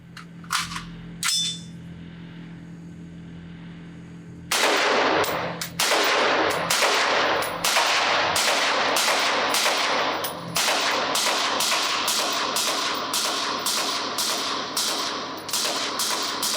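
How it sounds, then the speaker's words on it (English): A suppressed LMT MRP-L piston-driven AR-15 rifle fires at a range, a few scattered shots and then a long rapid string of loud, evenly spaced reports echoing over a constant background. "Let's shoot this gun suppressed."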